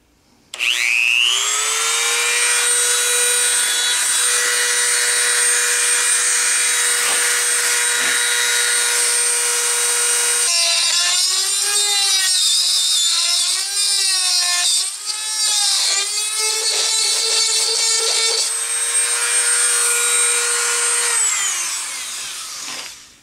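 Power drill turning a special tap-removal bit to drill out a broken tap in metal, a loud, steady whine that wavers and bogs as the bit bites, then spins back up and winds down.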